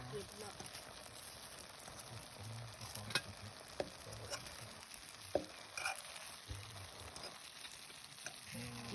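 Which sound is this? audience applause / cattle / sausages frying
sausages frying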